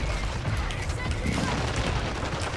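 Dense gunfire from Call of Duty DMZ crackles in a continuous, busy volley of overlapping shots and impacts, heard close and loud under game noise, with a voice speaking faintly.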